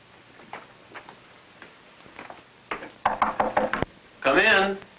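Knocking on a door in a 1955 film noir comes as a few soft taps, then a louder, quick series of raps, followed by someone speaking.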